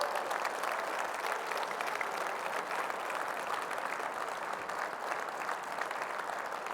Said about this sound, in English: Give these folks a round of applause,